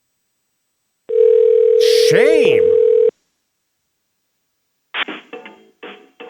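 A telephone dial tone and ringing on a live radio call-in show, heard as a loud steady tone with a sweeping chirp for about two seconds, then brief talk afterward.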